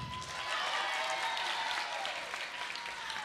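A crowd at a youth poetry slam claps in a full, steady round of applause that swells early and holds to the end, with a faint voice underneath.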